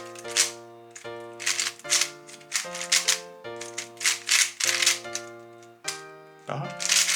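A MoYu WeiLong V10 speed cube turned in quick bursts of sharp plastic clicks and rattles, close up, over a steady sustained tone.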